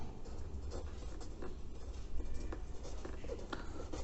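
Marker or chalk writing on a board during a trigonometry lesson, a steady scratchy rubbing with short strokes and taps, quiet and close, with no talk over it.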